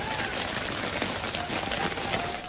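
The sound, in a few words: hail coming down in Burbank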